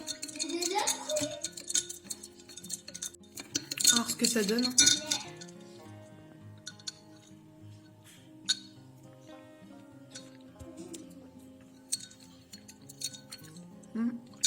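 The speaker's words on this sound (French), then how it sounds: "Avec mes petits glaçons cœur." Heart-shaped ice cubes clink and rattle against a glass of peanut butter latte, a burst of bright clinks early on followed by scattered faint taps, with someone briefly speaking nearby.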